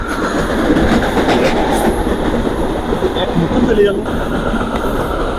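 Inside a moving passenger train on a trip around Khulna, a constant loud rumble and rattle of the carriage runs throughout, with faint clicks from the rails and people talking over it.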